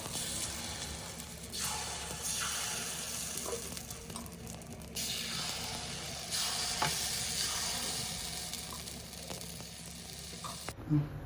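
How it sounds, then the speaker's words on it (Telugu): Ponganalu batter sizzling in a hot, heated pan, a steady close frying hiss with soft crackle and faint stirring or scraping throughout, no voices. "కొంచెం హీట్ అయిన తర్వాత వాటిల్లో మనం ముందుగా కలిపి పెట్టుకున్నటువంటి పిండి వేసుకోవాలి"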